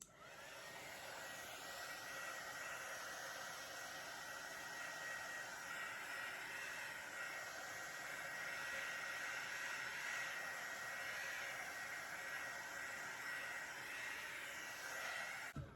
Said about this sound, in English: hit this one with the heat tool just to bring through any cells